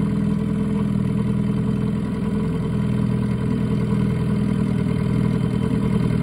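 A vintage Mercury Mark 6 two-stroke outboard motor trolling for trout on a lake in eastern Washington gives a steady, unbroken mid-low engine drone at a constant idle, loud and close throughout with no voices.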